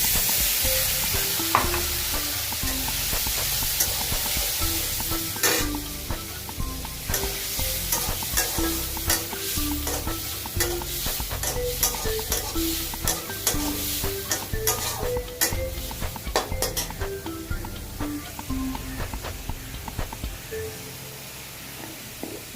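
A paste of ginger, cumin and tomato sizzles in oil for an onion- and garlic-free lentil dish, giving a steady close frying hiss punctuated by frequent scraping stirs of a spoon against the pan, with no talking.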